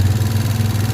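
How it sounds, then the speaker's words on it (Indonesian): A motorcycle engine idles right after starting during a battery charging check, a loud, steady low throbbing putter close up, with no speech over it. "Oke, mesin hidup, perhatikan."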